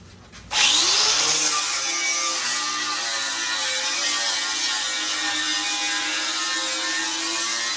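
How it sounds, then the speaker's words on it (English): A power drill with a 1/4 inch bit bores through the top layer of an F-body sail panel's sheet metal, a loud continuous high-pitched grinding whine that starts abruptly and holds steady, close up with no talk. "I'll drill these back to 1/4 inch, just the top layer"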